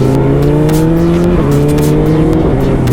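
A 2020 BMW S1000RR sportbike engine runs loud and close under way, a steady high-pitched drone whose pitch dips and climbs slightly as the rider shifts.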